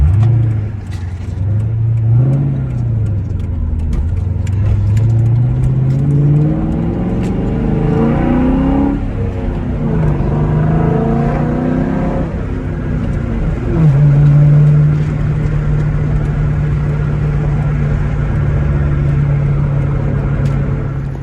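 A 2003 Ford Mustang Mach 1 cruising around town, its engine droning steadily from inside the car with rising revs through gear changes and a smooth, loud hum at constant speed.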